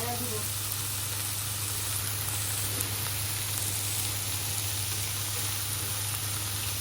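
Bitter gourd (karela) frying in a pan for a home-cooked meal, a steady close sizzle of oil and hiss running unbroken throughout, with a low constant hum beneath.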